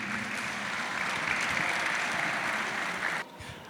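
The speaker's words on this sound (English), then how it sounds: "just give a round of applause for yourself for being here tonight." Crowd at an evening community gathering in Minnesota clapping together, a loud sustained burst of many hands that cuts off abruptly near the end.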